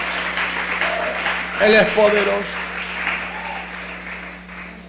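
A church congregation claps in loud, steady applause for several seconds, with a preacher's amplified voice calling out over it.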